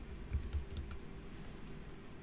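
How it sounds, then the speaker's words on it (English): Keys tapped on a computer keyboard to enter a command, heard as a quick burst of several light, close clicks early on, followed by a quiet hum with no talking. "we type in the MSLIDE command"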